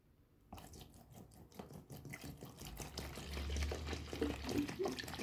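Water poured into a plastic box holding dishwashing liquid, mixed as a cleaning solution for the front plate and knobs of a Sony TA-F7 power amplifier; a steady splashing trickle that grows fuller and louder as the box fills, with no talk over it.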